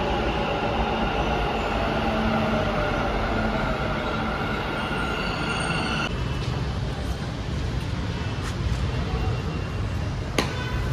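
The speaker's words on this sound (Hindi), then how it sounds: "ये आ गया हमारा मेट्रो" A metro train rumbles steadily into MG Road station in Bangalore, a low rolling roar with faint wheel squeal and a brief sharp click near the end.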